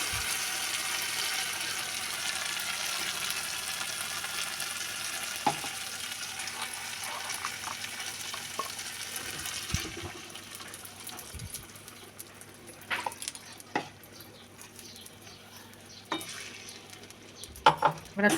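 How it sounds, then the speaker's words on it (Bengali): Ground soaked chickpea dal paste being stirred in a frying pan: a bright sizzle fades into a thicker bubbling fry, with repeated spatula scrapes and knocks against the pan over about eighteen seconds. "আর নাড়তেই থাকবো, না হলে তলাতে লেগে যেতে পারে"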